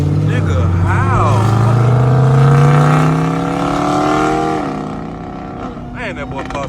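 A Dodge Hellcat engine revs up loud and close, its pitch rising steadily to a roaring peak before easing off, with a further blip near the end.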